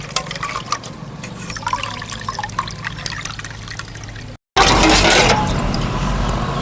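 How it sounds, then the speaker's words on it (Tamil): Water pours and trickles into a container, a loose splashing that turns into a louder, steady gushing stream after a brief break. "தண்ணி ஊற்றி வைக்கலாம்"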